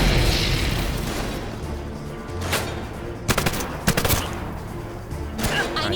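Sharp gunshots in 007 Legends fired through cover, several distinct bursts and single cracks spaced irregularly over a dim background rumble, moderately loud and close.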